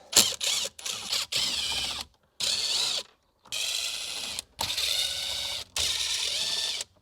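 Ratchet clicks in repeated bursts as 7mm screws are backed out of a Ford F150 factory radio, each short burst of rapid pawl clicking close and clear, separated by brief pauses.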